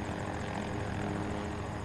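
A helicopter flies in the Battlefield video game, its rotor and engine a continuous dense drone with a rapid chopping pulse, loud and unbroken throughout.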